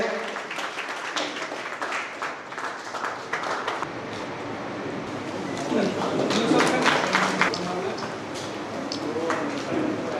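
An audience applauds at an Urdu speech gathering, the clapping steady and moderately loud across the whole stretch, with voices mixed in and a busier, denser swell of crowd noise in the second half.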